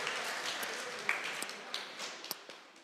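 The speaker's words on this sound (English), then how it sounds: "let us give her a round of applause" An audience claps steadily through a national reading competition, a fairly distant, soft wash of applause with a few sharper individual claps standing out.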